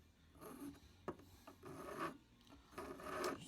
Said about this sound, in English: And then I'm just going to use this file,